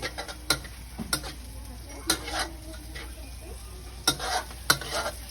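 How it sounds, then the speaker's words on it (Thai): Chillies dry-roasting in a hot wok for a spicy basil stir-fry, a faint sizzle broken by repeated sharp scraping strokes of a spatula against the metal, about every second. "อ่าเราคั่วให้หอมนะครับ คั่วพริกให้หอม"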